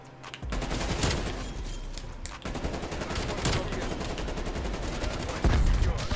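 Sustained QBZ automatic rifle fire in a first-person shooter, loud and close, rattling almost without pause for several seconds with a brief break and a heavy burst near the end.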